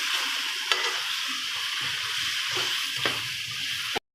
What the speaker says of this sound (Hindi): हल्का सा पानी का छींटा लगा सकते हैं आप लोग इसके अंदर, ताकि ये मसाले हमारे जो अच्छे तरीके से ड्राई हो जाए